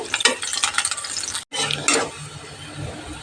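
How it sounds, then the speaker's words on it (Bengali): Chopped garlic hitting hot oil over low heat, a bright sizzle with spatula scrapes and stirring clatter, a brief break in the middle, then a steadier, softer frying hiss. "আট দশ কোয়া রসুন কুচি করে রেখেছি অ্যাড করে দিলাম লাইট গোল্ডেন হওয়া অব্দি ভেজে নেবো"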